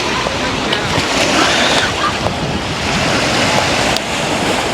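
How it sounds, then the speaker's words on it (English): River water washes in waves against the shore in Toronto, a continuous broadband surf wash mixed with wind buffeting the microphone, close and fairly loud, with voices faintly underneath. "No, you see like the river water"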